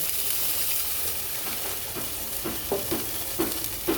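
Water goes into a hot frying pan for a light fish curry gravy with eggplant, giving a continuous close sizzle and hiss with a few soft clinks and bubbling pops building toward the end, no talking.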